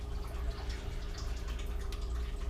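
Yeast slurry from a Saison batch being carefully poured into a container, a soft, quiet trickle and dribble of liquid with faint splashing that runs continuously.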